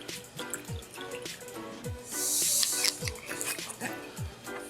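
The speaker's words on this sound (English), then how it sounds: "And I'm gonna pour it exactly how he did." Vodka poured into a watermelon cocktail in a home kitchen, making soft trickling and splashing sounds with a few faint clinks, quiet and close, with a louder hissing burst of liquid midway.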